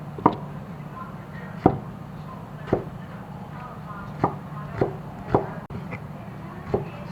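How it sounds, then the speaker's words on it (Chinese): Knife chopping pickled mustard greens (suancai) on a board, about nine separate dull chops at an uneven pace, fairly close, with a faint background hum. "这个酸菜给它切一下。"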